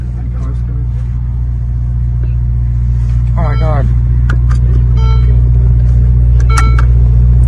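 Lamborghini Urus accelerating hard at night, a loud low engine rumble that swells steadily and stays close throughout, with excited voices talking over it.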